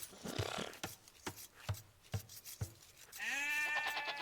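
Sheep in the strategy game Age of Empires during a match, with a series of dull thuds and rasping sounds followed by a clear, drawn-out bleat near the end, quiet and without talk.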